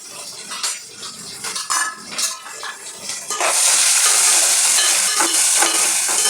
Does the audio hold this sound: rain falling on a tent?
no